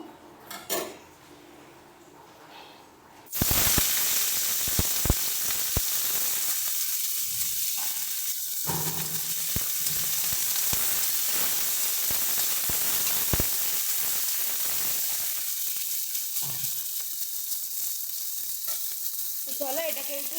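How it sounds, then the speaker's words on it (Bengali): Flat beans hitting hot oil in a pan, a sudden loud burst of sizzling that then holds steady with scattered clinks of a utensil against the pan, close and continuous. "এবার এর মধ্যে আমরা সিমটা দিয়ে ভাজবো।"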